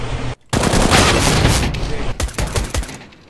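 Rapid, loud automatic gunfire from a Counter-Strike: Global Offensive match, with a sustained burst of shots, a brief pause near the start and a few trailing bursts that fade out.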